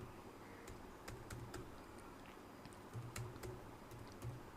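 Quiet, irregular clicks of a computer keyboard as someone types a line of text, the keystrokes coming in short bursts over a faint steady background hum.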